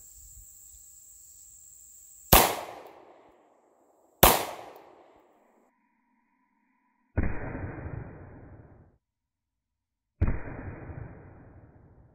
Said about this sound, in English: So real quick, here's my Smith & Wesson Model 59. Let's shoot two with the 9mm here